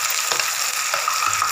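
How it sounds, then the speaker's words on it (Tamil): Onions sauté in a pan for chicken gravy, giving a continuous close sizzle and frying hiss with a few faint stirring scrapes and no talking. "இந்த வெங்காயத்திலே வதங்கின வெங்காயத்திலே போட்டு இனி வதக்கிக்கலாம்."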